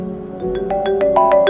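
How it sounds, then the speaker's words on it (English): Telephone ringing as a sound effect in a radio drama, a loud electronic ringtone of rising tonal beeps in quick repeated pulses, heard alone. "you have a phone call"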